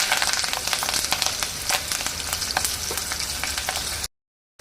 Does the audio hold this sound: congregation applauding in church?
no